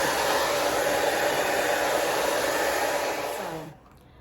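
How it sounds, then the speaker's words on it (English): A hair dryer blows steadily at close range while drying the inside of a deep wave wig, holding a loud, even roar for almost four seconds before cutting off. "I am gonna blow dry this inside just because I want to wet hair on my scalp"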